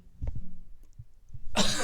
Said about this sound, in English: I'm like having a coughing fit over here.